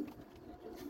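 Domestic pigeons coo softly and steadily while being fed in a home loft holding about 38 pairs, a low murmuring chorus close by with no talk over it.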